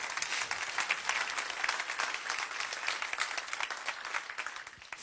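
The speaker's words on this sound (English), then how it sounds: "Give him a round of applause." Audience applause at a business bootcamp session, a dense, even wash of many hands clapping at moderate distance, sustained throughout and tapering slightly at the end.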